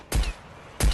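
Two sharp gunshot bursts go off in a battle royale video game, close and loud. A quiet gap of about half a second separates them.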